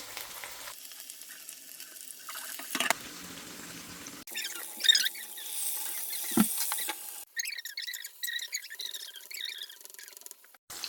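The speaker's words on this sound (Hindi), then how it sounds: "गरम गरम ऑयल में कबाब डाल देंगे" Kebabs frying in hot oil for an Eid feast, a steady sizzle and crackle that flares up as they go in, close and fairly quiet, with no talking.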